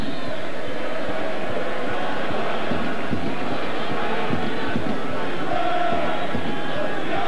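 A sellout stadium crowd at a Vancouver Whitecaps soccer match roars with a broad, steady rumble of cheering and shouting at a fairly loud level throughout.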